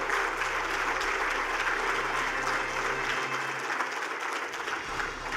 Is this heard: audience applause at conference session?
yes